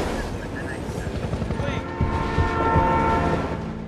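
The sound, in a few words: runaway train speeding in a Denzel Washington film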